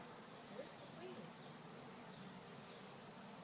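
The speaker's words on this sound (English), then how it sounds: "The bees are swarming me." Bees swarming as they are put into a hive, a faint, steady buzzing drone throughout with no distinct breaks.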